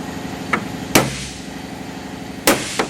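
Two sharp metallic hammer blows on a punch driving out window regulator rivets in the door of a postal LLV, with a lighter tap between them and a few more after, over a steady background hum.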